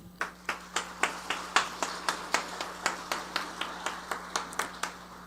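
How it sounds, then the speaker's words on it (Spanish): A small group claps to welcome a discussion panel, roughly twenty distinct, evenly spaced claps with a sharp attack, heard fairly close in a quiet room. "Recibimos con un fuerte aplauso a los integrantes de esta mesa."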